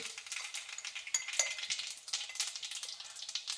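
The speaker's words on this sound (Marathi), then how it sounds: "आपलं तेल इथं गरम झालेलं आहे। त्याच्यामध्ये अर्धा चमचा मोहरी घालून घ्यायची आहे। अर्धा चमचा जिरं घालून घ्यायचे आहे।" Mustard and cumin seeds crackle and sizzle in hot oil, a faint, close, continuous patter of tiny pops and spits.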